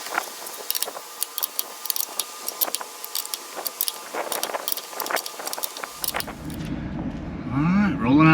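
A car towing a boat trailer with a freshly repaired brake caliper rolls out of a driveway: scattered clicks and knocks give way to a rising engine rumble near the end, with voices in the background.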